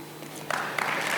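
Short burst of audience applause at a lecture on governance in Senegal, starting faintly and swelling into a steady patter of many hands over about a second.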